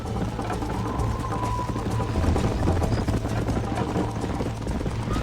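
Galloping horse hooves in Red Dead Redemption, a continuous rapid drumming of hoofbeats with rushing wind and ambient game noise, loud and steady throughout.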